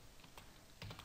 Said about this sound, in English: I'm going to go ahead and type the word charset